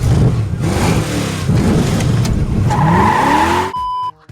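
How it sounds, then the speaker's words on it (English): A car in a Jack Reacher chase scene revs and accelerates away after stalling, engine pitch climbing with a tyre squeal before cutting off abruptly. "Jack's car stalls during a chase, but he quickly restarts it and keeps going"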